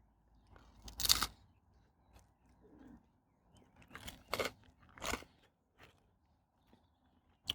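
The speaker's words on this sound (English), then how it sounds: "It's a pizza. It's cooked. It's crunchy." Someone eating a dry, crunchy cooked pizza with an overdone base, with a few sharp crunchy bites and scattered quieter chewing noises spread over several seconds, faint overall and close, with no talking.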